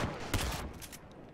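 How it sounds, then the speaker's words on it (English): Gunfire in a video game, a quick burst of two or three sharp close shots followed by a fading tail, loud against a low background with no talk. "See, that was 2 shots."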